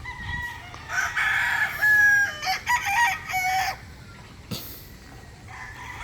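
Chickens and roosters on a farm kept as breeding stock, including Boston Black fowl, with a rooster crowing clearly at close range amid clucking, and a second shorter crow later against quiet background.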